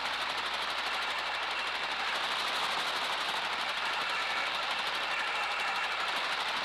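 Electrical discharge on electrical gear picked up through an Ultraprobe 2000 ultrasonic detector with a rubber probe, a steady, loud, dense frying buzz that runs unbroken for several seconds with no voices.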